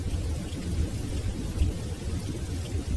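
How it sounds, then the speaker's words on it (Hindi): Heavy rain pours steadily on a rural road, a dense continuous rumbling wash with no voices over it. "मोड़ तक पहुंचते पहुंचते बारिश और घनी हो गई।"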